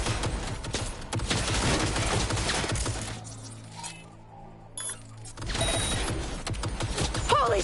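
Dense automatic turret gunfire rattles in the Cyberpunk 2077 video game, continuous and loud, then it drops away briefly before the heavy firing resumes.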